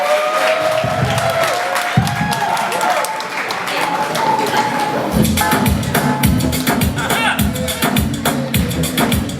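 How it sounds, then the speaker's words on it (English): Audience at a Nigeria Independence Day celebration breaks into sustained clapping and cheering, a dense wash of hands that swells and holds for several seconds with voices mixed in. "Please give me a hand of applause."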